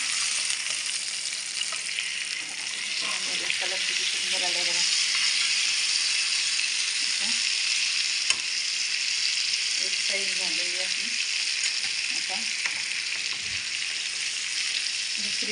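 Stuffed pomfret fries in a pan over medium-low heat with a constant loud sizzle, and there are occasional clatters as the fish is turned. Faint speech can be heard in places.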